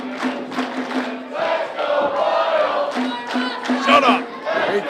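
Live crowd noise at a wrestling event in Overland Park, a dense, continuous roar of many voices with shouts and cheers rising and falling throughout, steady and fairly loud.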